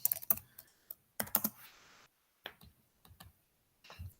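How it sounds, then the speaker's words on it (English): Someone types a spreadsheet formula on a computer keyboard, with close, crisp key clicks arriving in quick clusters separated by short pauses. "So I will just type the formula equals log for logarithm, and then the dilution."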